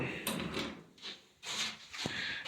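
A makeshift bed-frame door on a shipping container is swung and pushed shut, producing a few scraping, rubbing metal-and-wood sounds and a soft knock, close and fairly quiet.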